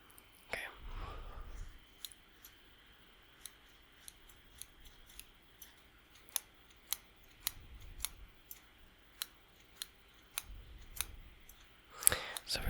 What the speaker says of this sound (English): with this pair of scissors instead.